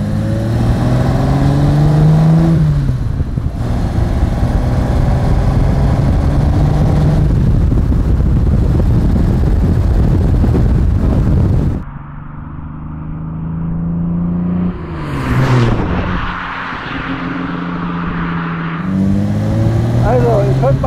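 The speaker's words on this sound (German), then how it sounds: "Soll ich jetzt richtig Gas geben?" A 1980 Kougar Sport with a Jaguar 3.8-litre engine revs hard and accelerates, its loud rising engine note running for several seconds before easing off into a quieter rumble and climbing again, with someone speaking briefly.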